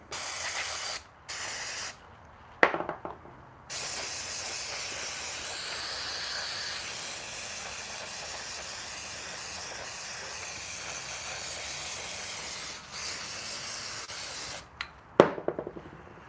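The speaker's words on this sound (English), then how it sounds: "Same thing, give it a little spray." Several bursts of aerosol spray hiss close by on a KTM 500 EXC-F dirt bike during an oil change, a couple of short squirts followed by one long continuous spray, with clicks between.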